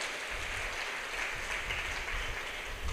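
A church congregation claps loudly and steadily together during prayer, a dense, continuous wash of applause with no voices standing out.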